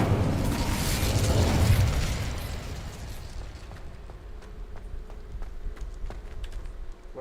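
Casting the Incendio fire spell in Hogwarts Legacy sets off a loud whooshing burst of flame that swells and then fades over a couple of seconds into quieter game ambience with scattered light clicks and taps.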